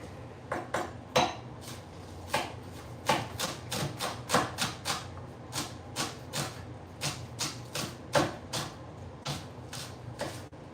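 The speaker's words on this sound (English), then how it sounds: "So we're gonna get some chopping done" Kitchen prep for a cooking series: a knife chopping food on a board, with irregular sharp knocks and clatters in quick bursts at close range, and no voices.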